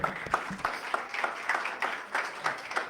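A small audience at an event claps in a sparse, uneven pattern with distinct individual hand claps, fairly close, briefly welcoming a speaker.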